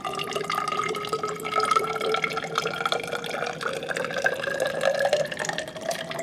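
Water spills from a container into a graduated cylinder as a racquetball is slowly pushed under, a close, continuous trickling and pouring with slowly rising tones as the cylinder fills.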